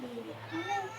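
A pet cat meows a few times close by while a person talks over it indoors.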